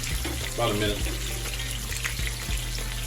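A sea bass fillet fries meaty side down in a pan, a constant close sizzle with a low steady hum beneath and a few soft knocks of spatulas against the pan.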